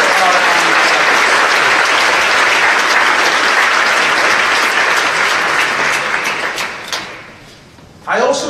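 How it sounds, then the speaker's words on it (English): Loud, sustained applause from a large audience at a 2017 State of the City address in Long Beach, honoring the city council, filling most of the stretch before fading and briefly rising again at the end. "So please give them a big round of applause for working so hard."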